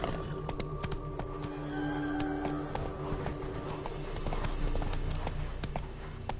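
Hooves of a horse named Roach clip-clop steadily at a trot, continuous and fairly close, over a busy outdoor background.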